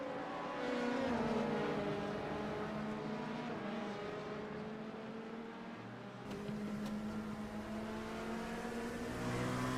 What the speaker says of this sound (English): Here with the battle between two LMP2s